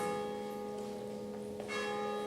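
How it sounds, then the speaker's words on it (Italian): A church bell rings and hums with long, sustained, steady tones that stay fairly quiet, and a brighter strike arrives near the end, with no speech. "Whom does the bell toll?"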